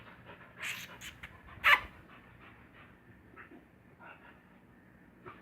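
A dog breathing after its dinner, soft irregular panting puffs and a few sharper snorts or sniffs, close to the microphone in a quiet room with no talking.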